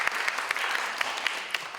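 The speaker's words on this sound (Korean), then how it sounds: "박수 한번 주세요." A worship gathering's audience gives a short burst of steady applause, brisk and even, with a few sharper claps popping out above the rest.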